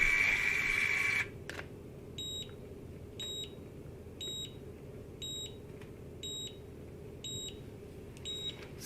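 A cordless curling iron emits a string of short, high electronic beeps repeating at an even pace about once per second, six in a row, after a brief burst of noise.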